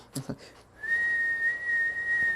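A person's voice mimics the whistle of an incoming rocket with a steady, sustained high tone held for well over a second, after a couple of short breathy sounds.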